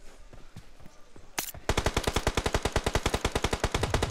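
Rapid automatic gunfire from a shooting video game, a loud fast burst of evenly spaced shots running for several seconds after a few scattered single shots.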